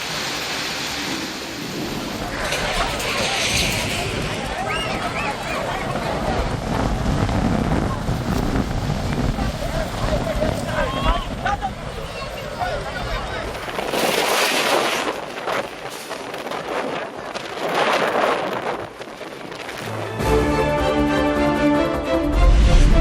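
Strong gusting wind with heavy rain in a thunderstorm, a loud continuous roar and wash of rain buffeting the microphone, with rumbling surges throughout and a harsher burst near the end.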